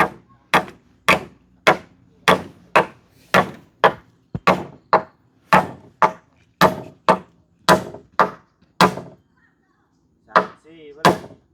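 Wooden posts or boards are struck repeatedly with a hammer at a building site, about fifteen sharp, ringing knocks in a steady rhythm, close and loud, followed by a short pause and faint voices at the end.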